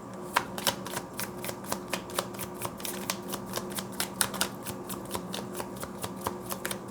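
Tarot cards are shuffled repeatedly, a fast series of crisp riffling snaps at a steady rhythm, close and fairly quiet.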